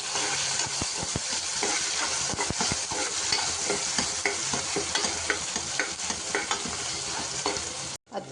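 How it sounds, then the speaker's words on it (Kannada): Chana dal and tempering spices fry in a pan with a bright, continuous sizzle and frequent spatula scrapes and taps, close and fairly loud, before a brief dip near the end. "ಸ್ವಲ್ಪ ಫ್ರೈ ಮಾಡೋಣ."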